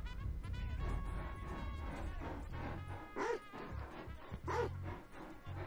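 Dogs bark in the video game GTA 5, several yips and barks over a busy game soundscape with a steady buzzing tone, at moderate loudness.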